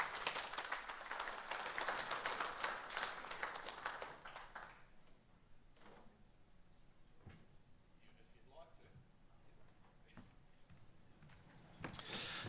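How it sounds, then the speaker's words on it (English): An audience at a business awards ceremony applauds with dense, steady clapping for about four seconds before it dies away, followed by quiet room noise and a voice speaking. "Big round of applause."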